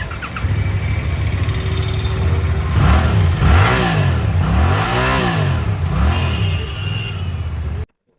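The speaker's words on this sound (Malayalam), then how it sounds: "ഇനിയിപ്പോൾ അടുത്തതായിട്ട് നമുക്ക് ഇതിൻ്റെ ഒരു എക്സോസ്റ്റ് നോട്ടിലേക്ക് പോവാം." A Suzuki GSX-8R motorcycle's exhaust idles, then is revved in several quick rising and falling blips, loud and close, before cutting off abruptly.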